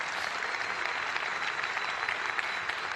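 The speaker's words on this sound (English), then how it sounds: "Another applause, please." Audience applause at a conference presentation in London, continuous dense clapping at a steady moderate level with no breaks.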